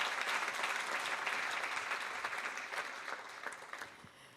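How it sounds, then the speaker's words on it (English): A temple audience at a shrine opening gives the musicians a burst of clapping that swells, then thins and fades out over a few seconds. "Let's give them a round of applause."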